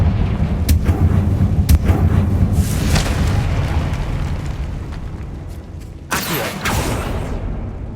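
Booming explosive blasts from the Confringo spell in the video game Hogwarts Legacy roll over a dense, continuous rumble, with another sharp burst near the end; no talking.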